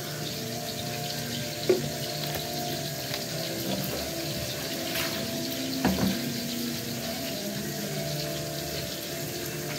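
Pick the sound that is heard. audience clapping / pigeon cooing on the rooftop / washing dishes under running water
washing dishes under running water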